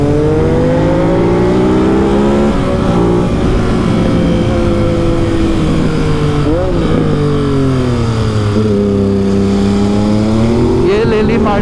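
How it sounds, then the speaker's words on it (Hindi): Ducati motorcycle at full throttle on an open road, engine note rising and falling steadily through gear changes and a right turn, loud and continuous with wind rush throughout. "देखिए full throttle, right turn full throttle,"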